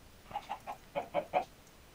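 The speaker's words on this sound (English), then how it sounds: "Chicken! That's not an ordinary chicken." Chicken clucks from the video game Minecraft, a series of about six short, distinct clucks in two quick groups, fairly clear against a quiet background.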